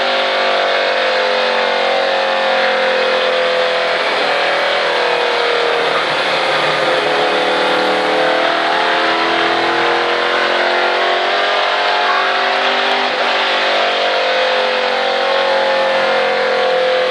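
A NASCAR race car engine roars loud and close, holding steady, then dipping slightly and building again as the driver gets back on the throttle; no voices.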